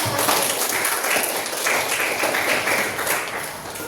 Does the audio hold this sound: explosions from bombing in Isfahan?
no